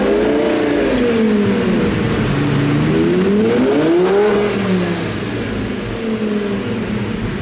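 Lamborghini engine rolling on and off the throttle, a loud, close drone whose pitch swoops up and down through the revs in smooth waves before settling lower.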